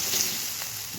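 Spice paste for a prawn curry fries in a pan with a steady soft sizzle, quiet and close, with no talking.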